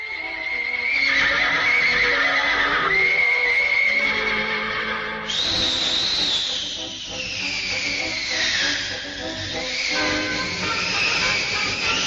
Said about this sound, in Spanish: Nunca el mundo vio tan bellos caballos como dos de ellos.